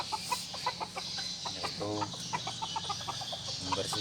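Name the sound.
red junglefowl chicken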